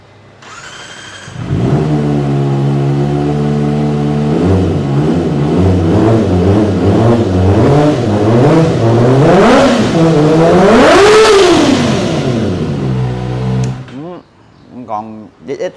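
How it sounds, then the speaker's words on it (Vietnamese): A Honda CBR Kabuki edition motorcycle starts and revs through its exhaust, with a loud throaty idle, repeated rising throttle blips and a big high rev before it cuts off. "cho anh em nghe tiếng bô"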